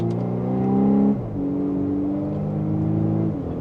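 Volkswagen Atlas Peak Edition SUV accelerating in sport mode through second gear via paddle shifters, a loud rising engine hum that climbs, drops sharply at a shift, then climbs again before another dip.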